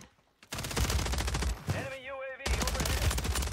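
Rapid automatic AMR 9 gunfire in the Warzone 3 video game rattles in dense, loud bursts with a short lull, during which a voice speaks briefly before firing resumes.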